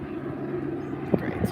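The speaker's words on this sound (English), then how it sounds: "Helicopter's going over, so it's noisy." A helicopter passes overhead above an outdoor vegetable garden, a steady low rotor drone filling the background under a person's talking.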